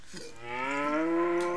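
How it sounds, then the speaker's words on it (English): A cow moos in the Breath of Fire 3 video game, one long, loud, steady call with a rising tone, heard alone. "Hey, there's a cow."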